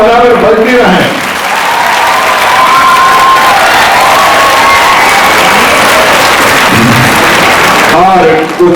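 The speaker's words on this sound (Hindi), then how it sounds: "आपकी तालियां बराबर बजती रहें।" A crowd at a state-level Red Cross Day celebration applauds loudly and continuously, with faint cheering mixed in; brief voices or music are heard at the very start and end.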